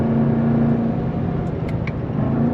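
A Chevrolet Corvette C7 Z06 being downshifted on its 8-speed automatic using the paddles, on throttle, with a loud steady engine drone throughout and a few sharp brief blips near the end.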